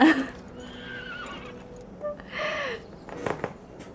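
A horse in a video game gives a loud, close whinny at the start, followed by softer snorts and a few clip-clopping hoof beats near the end, with game sounds around it.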